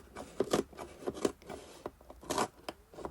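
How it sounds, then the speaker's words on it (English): Scissors cut into a cardboard box, several close crunching snips with rubbing and scraping between them, quiet and uneven in rhythm, with no voices. "carefully insert your scissors into the hole and cut to the corner"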